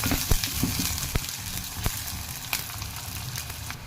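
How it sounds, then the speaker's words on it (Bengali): Chopped onion and chillies hit hot oil with fenugreek seeds for a South Indian–style fish curry, giving a steady close sizzle with crackling pops and a few sharp spatters, no voice over it. "তারপরে আমি যে কাটা পেঁয়াজ আর হাঁড়ি মির্চটা দিয়ে দেবো।"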